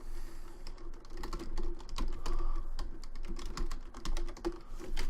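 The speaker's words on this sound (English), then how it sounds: "I remembered it as soon as I was typing it." Rapid keystrokes clatter on a computer keyboard, close and steady throughout, with uneven bursts of clicks and no voices.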